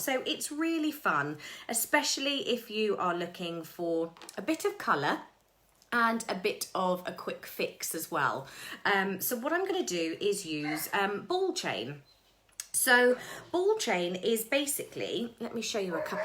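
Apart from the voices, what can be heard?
No everyday noises stand out.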